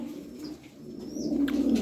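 Aksaray tumbler pigeons coo steadily at close range, a continuous low throaty murmur from several birds with a few faint higher chirps over it.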